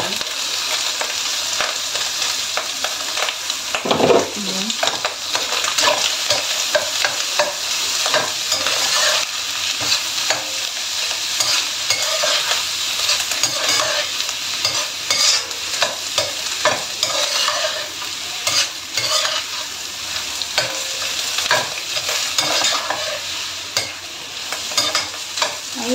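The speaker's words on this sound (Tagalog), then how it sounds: "Fried rice naman tayo ngayon. And, lagyan na natin itong vegetable natin." Fried rice with vegetables is being stir-fried in a hot pan, giving a steady sizzle and frying hiss throughout, broken by scraping and tossing noises as the food is stirred. No voices are heard.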